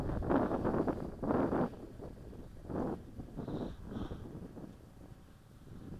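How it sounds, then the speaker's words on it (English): Strong gusts buffet the microphone outdoors during a battery test of a Walkera QR X350 Pro drone, coming in several heavy rumbling bursts and then easing into a steadier lower roar. "the wind is blowing really hard right now"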